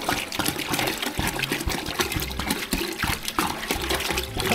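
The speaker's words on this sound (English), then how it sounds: "I'm gonna hold it down. It's splashing." Water steadily pours and splashes into a 32-gallon BioCube saltwater aquarium during filling. The gushing is loud and continuous, with a churning, bubbling texture.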